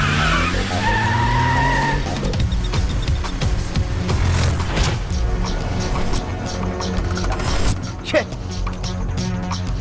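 A car swings around in a sharp turn with tires skidding and squealing, a loud, continuous roar from an action-film chase scene, with voices mixed in.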